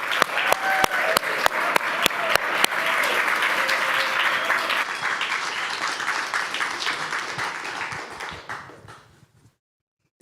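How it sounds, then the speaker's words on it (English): Audience applause for students walking to the stage at a live evening program, dense sustained clapping with a few sharp claps standing out early, close and loud, then thinning out and fading to silence near the end. "So let's give these students a round of applause as they make their way to the"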